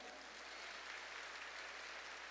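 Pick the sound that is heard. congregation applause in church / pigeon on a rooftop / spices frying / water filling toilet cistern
congregation applause in church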